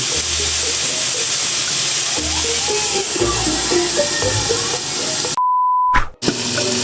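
Pork pieces sizzle in a covered pot as they render their own fat, giving a steady, loud hiss with some crackle, broken near the end by a short electronic beep and a brief dropout.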